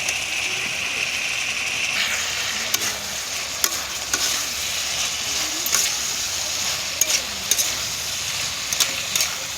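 Cabbage and potatoes fry in a pan with a steady, busy sizzle, and a spatula or spoon scrapes and knocks against the pan in scattered clicks. The sound is close and continuous.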